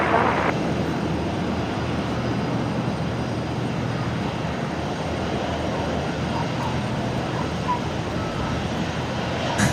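Steady, loud roar of an airliner on the runway at Brisbane Airport, a broad engine rumble holding for nearly ten seconds without a break.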